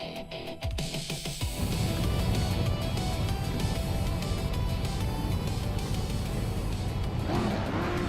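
Race car engines roar steadily at Anderstorp in a racing game, a classic 1973 Porsche 911R leading the pack, the sustained loud engine drone starting after a short quieter opening and continuing unbroken.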